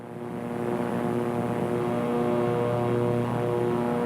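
A Naval Aircraft Factory N3N biplane drones steadily overhead, its propeller engine a continuous loud hum that swells slightly and holds without talk.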